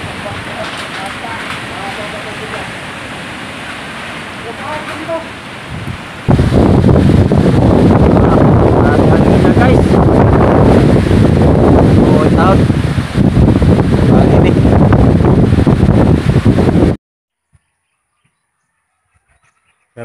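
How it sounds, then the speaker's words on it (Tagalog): Strong typhoon wind from Typhoon Odette in Bohol, a dense roaring rush that swells sharply after a few seconds and buffets the microphone continuously before cutting off abruptly. "Grabe guys, kusuga sa angin guys."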